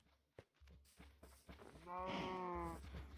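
A Minecraft cow lets out a loud, drawn-out moo with harmonic overtones, preceded by a few soft thuds and footstep-like clicks in a quiet game setting.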